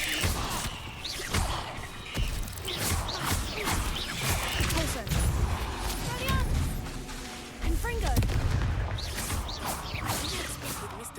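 Bombarda explosion spells and other combat casts in Hogwarts Legacy crash and whoosh in a dense, continuous flurry of impacts, with a voice talking over the action throughout.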